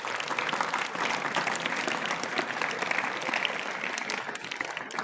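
Audience applause fills the hall, a steady dense clatter of many hands clapping without pause, close and fairly loud throughout.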